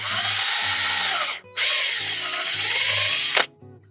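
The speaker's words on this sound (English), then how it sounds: "I'm going to drill in a little bit." Power drill whirring into a carved Grinch figure, a loud sustained buzz running in two long bursts with a brief pause between them and a sudden stop near the end.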